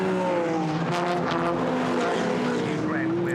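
A BMW GT4 race car at Brands Hatch, its engine note rising then falling as it passes, with a commentator talking over the roaring motorsport background.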